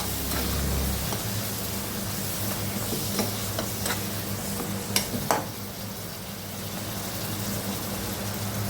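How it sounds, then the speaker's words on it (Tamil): Tomatoes sautéing over high flame in a pan for a tomato jam, a steady low frying sizzle with stirring scrapes and a couple of sharper clinks partway through, fairly close and quiet, no talk. "இந்த தக்காளியை 1 நிமிஷம் வதக்கிக்கலாம் ஹை ஃப்ளேமில்"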